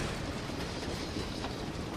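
A continuous rumbling roar of a train in the video game Ubersoldier 2, steady and loud, with a faint rattle running through it and no pauses.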